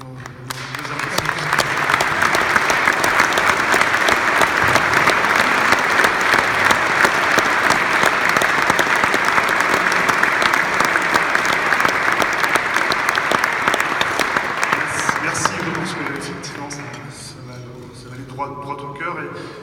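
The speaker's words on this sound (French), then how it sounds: "est-ce que vous êtes prêts avec moi à aller applaudir 10 secondes" An audience at a prize-giving ceremony in La Rochelle applauds in a long, loud, dense wave for about fifteen seconds before it thins out and a voice starts speaking.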